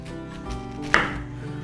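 A single sharp knife stroke through a pineapple halved on a cutting board, one distinct thud against a quiet kitchen background.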